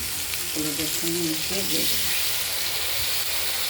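Potatoes, chopped tomato and spice masala fry in oil for a rohu fish curry with coriander, a constant close sizzle and hiss with a voice briefly speaking over it.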